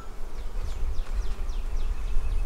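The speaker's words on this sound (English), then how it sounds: "Okay, this hive is busy." A busy honey bee hive buzzes with a dense, close hum as individual bees drone past over a low rumble, continuous throughout.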